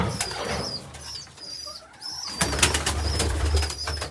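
Repeated cooing and chirping calls from birds close by, with a brief flutter of wings and louder calls toward the end.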